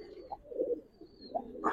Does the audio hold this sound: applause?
no